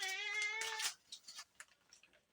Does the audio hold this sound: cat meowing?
yes